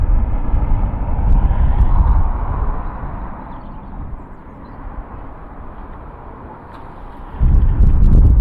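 Jet engine roar from a Ryanair Boeing 737-800 at Dublin Airport: loud broadband rumble that eases to a quieter steady hum midway, then swells again sharply near the end, with wind buffeting the microphone.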